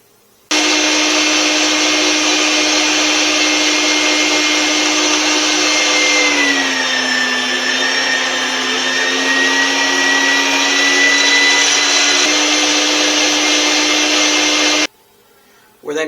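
An electric grinder works Wagyu chuck beef and smoky bacon, a loud, steady motor whine running about fourteen seconds without a break, its pitch dipping slightly partway through before it cuts off.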